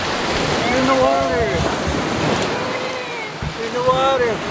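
Ocean surf washes continuously at a beach, a loud broadband roar of breaking waves mixed with wind buffeting the microphone, while a person's excited voice and a puppy's presence come through over the water noise.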